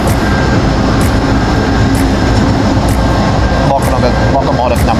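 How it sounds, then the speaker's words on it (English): A CSX freight train rolls past close by at an even, loud rumble, with steady rail and wagon noise running unbroken through the whole stretch. A voice speaks faintly underneath. "right behind it you got the CSX freight train"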